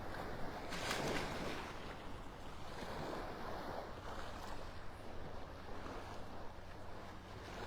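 Ocean surf washing in on a beach in North Naples, Florida, with a steady broadband roar of breaking waves and wind noise on the microphone, continuous throughout, with no voices.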